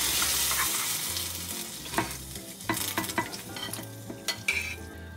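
Mung beans, sugar and pomelo pith are stirred in a pot for a Vietnamese pomelo sweet soup. A soft sizzle fades under close, uneven scraping and clinking strokes of a spoon against the pot, with no talking.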